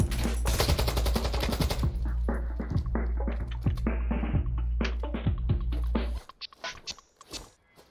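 Rapid bursts of automatic gunfire from Call of Duty Warzone 2, loud and close, with dense repeated shots through most of the stretch before cutting to sparser scattered sounds near the end.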